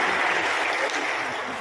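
An audience at an official inauguration ceremony gives the Governor a dense, continuous round of applause that holds steady and moderately loud for under two seconds, with no speech over it.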